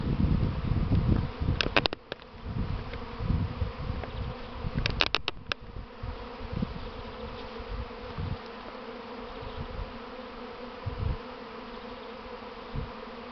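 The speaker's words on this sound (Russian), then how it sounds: "Я на улей поставлю сейчас, смотрите, как они с улья выпирают." A honeybee swarm pouring out of a hive fills the air with a dense, continuous buzzing, loud and close. A few sharp knocks and rustles come near the start, with no talking.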